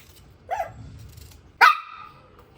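A pet dog barks twice indoors in a home kitchen, two sharp, loud barks about a second apart with a quieter yip at the end, over low background hum.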